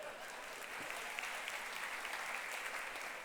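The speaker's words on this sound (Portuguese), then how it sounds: "Uma salva de palmas pro Ian." A church congregation gives a round of applause for a young man, a steady wash of many hands clapping, soft and somewhat distant, continuing evenly without speech.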